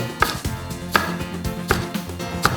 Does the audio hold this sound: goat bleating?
no